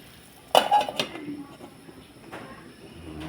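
A metal pot lid set back onto a pot of simmering fish soup gives one sharp clank followed by a brief rattle and softer clinks, then quiet kitchen background.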